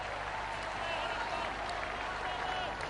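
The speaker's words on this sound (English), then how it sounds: "more applause from the young local fans" Crowd applause at a Bangladesh vs England Test cricket match in Chittagong, 2010, as young local fans clap; a steady, continuous wash of clapping fills the whole stretch, with background commentary beneath.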